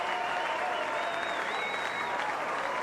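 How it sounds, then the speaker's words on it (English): A football crowd at a 1998/99 NTFL men's premier league game stands and applauds a player walking off the ground. The clapping is a dense, continuous roar from a distance, steady throughout, with a faint whistle-like tone drifting above it. "we'll just let the applause tell the story"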